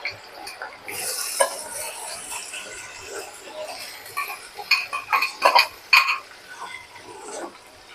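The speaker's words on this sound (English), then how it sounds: "Side by side, we will be frying the onions." Onions frying in a pan for biryani give a steady sizzle with occasional stirring clatter and utensil clinks, louder bursts toward the end, heard alone without talk.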